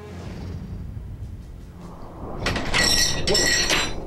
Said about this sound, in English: Just accidentally knocked over a glass. It was empty.